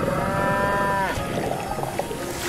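A cartoon cow moos in distress, one long, loud, close bellow with a bending pitch that fades into a noisy background.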